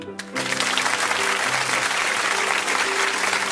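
An audience claps loudly and steadily to welcome a theatre group onto the stage, with dense sustained applause after a brief start.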